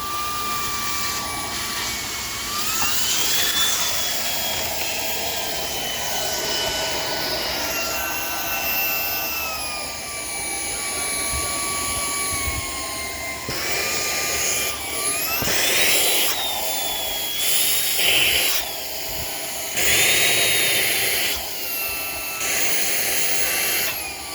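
A Shark PowerDetect IP1251 cordless vacuum cleaner with its crevice tool runs along indoor baseboards, a steady high whine whose pitch shifts as the nozzle moves, with brief louder surges of suction.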